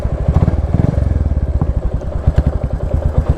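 A Royal Enfield Classic 350 motorcycle engine thumps steadily up close, its rapid low exhaust pulses loud and continuous throughout.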